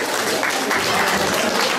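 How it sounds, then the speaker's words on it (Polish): An audience claps and cheers at a charity auction event, a loud, continuous, dense burst of applause with little talk over it. "Brawa ogromne, brawa ogromne."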